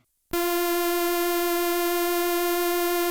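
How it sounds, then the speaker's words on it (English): A Stylophone Gen X-1 with pulse width modulation switched on holds one buzzy, reedy synth note. It starts abruptly, stays steady and loud for about three seconds, then cuts off, with no voices. "The X means pulse width modulation, which is basically it changes the timbre of the oscillator."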